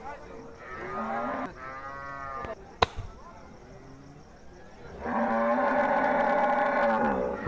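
Cattle at a cow market in Ishwardi bellow twice, close and loud: one long moo at the start, then a second strong, drawn-out moo after a short lull with faint crowd murmur.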